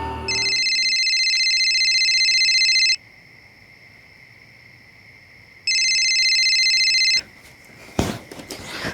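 A phone rings loud and close in two long electronic bursts separated by a pause, followed by a brief clatter and rustle as the call is picked up.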